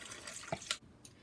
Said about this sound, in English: into our yeast, we're going to add in 1 cup of warm water that let come to 110 degrees